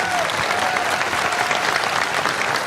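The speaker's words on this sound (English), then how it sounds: "let's give them a round of applause" Dense, loud applause from a town hall audience, continuous clapping throughout with no pauses.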